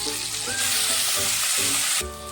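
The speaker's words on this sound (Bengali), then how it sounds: "তেল গরম হয়ে গেছে, এবারে ফুলকপিগুলো দিয়ে ভেজে নেব" Cauliflower florets fry in hot oil in a wok with salt and turmeric, a loud steady sizzle broken by a few stirring scrapes, close and continuous with no talking.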